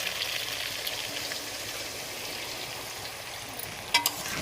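Hot water poured into a pan of frying snakehead (shol) fish curry, a steady broad hiss and bubbling sizzle held at even level, with a couple of brief clinks near the end.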